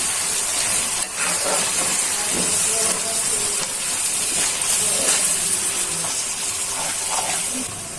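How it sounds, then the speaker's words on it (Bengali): Ground cumin and coriander masala being fried for a Bengali egg bhuna, a steady broadband hiss and sizzle that holds loud and continuous throughout with faint clinks and scrapes, and no talk over it. "এখন মশলাটা ভালো করে কষিয়ে নিই।"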